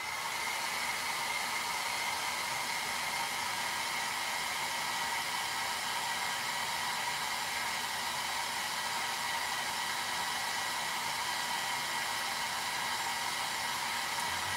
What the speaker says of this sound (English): Let me blow dry.